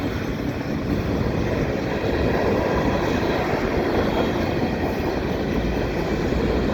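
A CN freight train with gondola loads and brand-new hoppers rolls past a footbridge over Des Sources Blvd in Dorval, Montreal, a loud, steady rumble of railcars with faint wheel clatter throughout, no voices.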